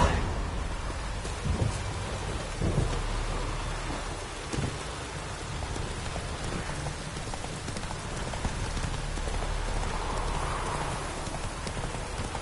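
Steady hoofbeats of Geralt's horse Roach trotting in The Witcher 3, a continuous rhythmic clopping under a dense wash of rain-like ambience, moderately loud throughout.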